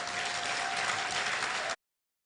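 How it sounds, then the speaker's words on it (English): Steady applause from an audience at an annual convention in Mombasa, Kenya, with dense, even clapping for almost two seconds before it cuts off abruptly into silence. "A clap."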